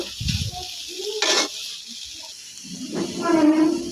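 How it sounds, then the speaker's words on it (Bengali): Papaya bhaji stirred and fried in a pan: a few scraping spatula strokes over a steady soft sizzle, with a louder, hissier burst toward the end. "এটাকে নেড়ে চেড়ে ভালো করে ভেজে নেব।"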